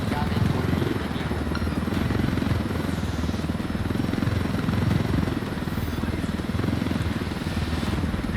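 A helicopter in Ghost Recon Wildlands flies with a steady, close, loud rotor chop and engine drone, holding an even level throughout.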